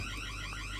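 A Tuya door/window sensor sounds its alarm, a continuous, fairly quiet electronic siren with a warbling, sweeping tone that fills the whole moment without pause.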